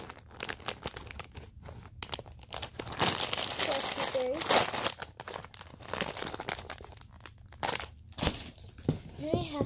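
Plastic packaging from a squishy toy crinkles and crackles as it is handled, close by, in irregular bursts of rustling with brief pauses between handfuls.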